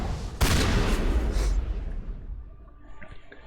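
Slug-firing shotgun blasting in Mass Effect 1 Legendary Edition: one loud, close boom early on, a second burst about a second later, then a rumbling tail that fades into quieter game ambience.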